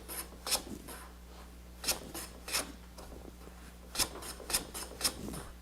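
Hand plane taking wood shavings on a shooting board, a series of quiet short rasping strokes in an irregular rhythm, close and faint over a low background hum.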